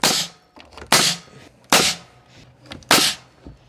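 A nail gun fires 2.5 inch nails into wooden jack studs during house framing, four sharp, loud close-up bangs spaced about a second apart, each followed by a short rattle.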